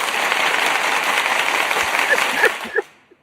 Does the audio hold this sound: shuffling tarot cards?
no